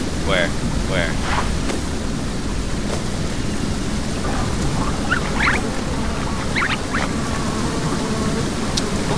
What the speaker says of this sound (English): there's an ocean over there